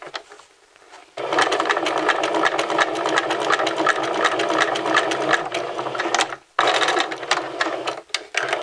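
A sewing machine stitches a seam in steady, continuous running bursts, close and fairly loud, with a short pause before it starts and a brief stop near the end before resuming.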